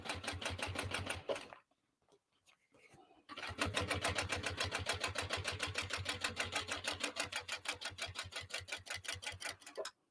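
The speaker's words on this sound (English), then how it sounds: "And just top stitch all the way down." A sewing machine top stitching down a tote bag, rapid even stitch clatter close by, broken by a short pause near the start before a long continuous run.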